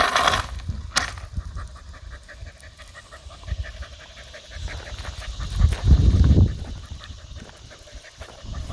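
A homestead dog pants hard and rapidly while digging at a pipe with a rat cornered inside, close and steady throughout, with scuffling thumps and a louder burst of scraping and snuffling toward the end.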